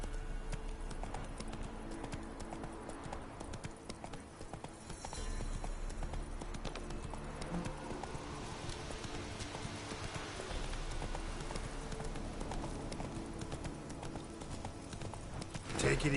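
Roach, a horse in the video game Witcher 3, gallops with a rapid, steady clip-clop of hooves throughout, while game voices speak over the pounding.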